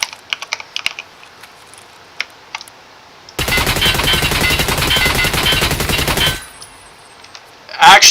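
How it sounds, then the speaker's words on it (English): A suppressed gun in the shooter game SPT Tarkov fires one rapid, dense automatic burst lasting about three seconds, muffled but loud, after a few faint clicks and before quiet returns. "That's a godlike suppressor."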